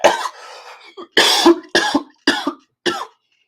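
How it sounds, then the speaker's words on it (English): A man coughs in a series of sharp, loud bursts, about five harsh hacks following a longer rough throat sound, close to the microphone with short silences between. "I did not rehearse that cough"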